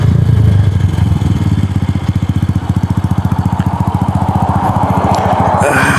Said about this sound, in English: Still a little pop. I still got to get the carburetor tuned right, but it's been running pretty good.